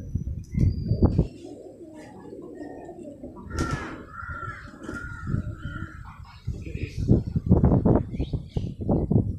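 Caged pigeons coo in a few soft, rolling calls near the middle, between louder bursts of nearby handling and rustling noise.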